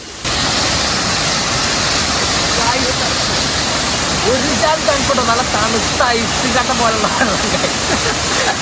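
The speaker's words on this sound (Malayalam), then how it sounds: "ഇത് നമ്മളെ ചെറിയ വെള്ളച്ചാട്ടമാണ്" Rushing water from the small Thusharagiri waterfall in Kerala roars as a steady, loud, broadband wash throughout, with people talking over it.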